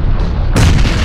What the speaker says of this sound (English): Here comes the nades back this way too.